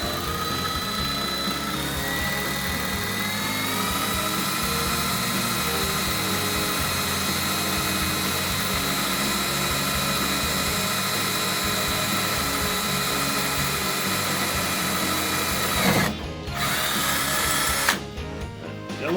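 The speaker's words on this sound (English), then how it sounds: "So here I'm just going to go ahead and drill out this middle one here." A power drill bores steadily through a fiberglass hood on a Fox Body Mustang during a hood strut installation, a continuous whining drone under light pressure for most of the clip, ending with a couple of short stops and restarts.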